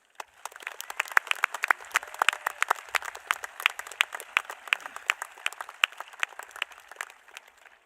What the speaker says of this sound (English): please take a moment just to give a round of applause and appreciation for his service